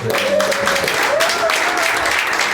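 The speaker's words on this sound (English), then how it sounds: "Give yourselves a round of applause." Applause from attendees at a Global Education Teacher Summit reception in Jamaica. A steady clatter of clapping mixes with a sustained tonal hum and a brief voice near the start.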